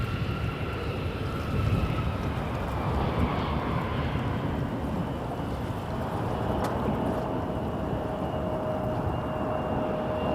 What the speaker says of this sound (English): This one's not shown on the radar, but love the propeller sound.